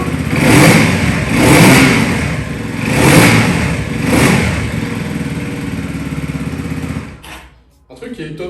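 A Motron X-Nord 125 motorcycle engine revving four times in a regular rhythm over a steady idle, close by and fairly loud, then cutting out briefly before restarting.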